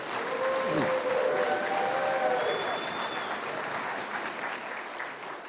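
Applause for MP Buckley Belanger at an apology event for Île-à-la-Crosse School survivors: a full room clapping steadily, loud and sustained, easing slightly toward the end, with faint voices mixed in.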